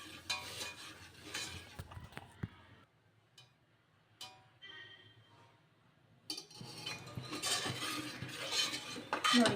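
Spoon stirring sugar as it melts in a pan for carrot halwa: scraping strokes and light metallic clinks, louder at the start and end with a quieter stretch in the middle, no talking.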